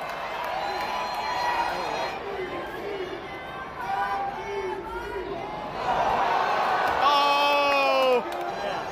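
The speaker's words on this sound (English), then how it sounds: "This crowd is inspired. Cheering them on." Stadium crowd at a night baseball game at Angel Stadium, a dense continuous roar of cheering and chatter with scattered whoops and shouts, swelling louder toward the end.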